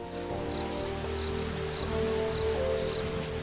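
Steady rainfall patters throughout a rainy cutscene in a calm indie game jam title, soft and even, with a faint recurring chime and low musical tones underneath.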